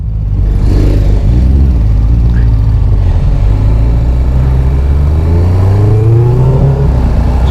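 A Benelli 600i motorcycle roars past close by, its loud four-cylinder engine note holding steady and then climbing in pitch as it speeds away, with wind rush and no talk.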